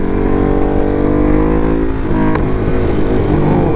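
A Ducati Hypermotard 698 Mono single-cylinder motorcycle with an auto blipper quick shifter rides past loudly and close, its engine droning steadily with a shift blip partway through and heavy wind roar throughout.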